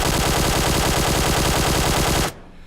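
A QBZ assault rifle fired from the hip in PUBG Mobile lets off a loud, rapid, unbroken burst of automatic gunfire for about two seconds, then cuts off sharply into near silence.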